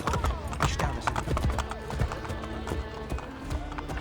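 Hooves clip-clop at a gallop, a horse running in Assassin's Creed Brotherhood, with steady rhythmic thuds under a busy game soundscape and a few faint vocal bits.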